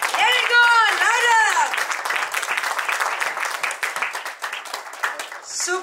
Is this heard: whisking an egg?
no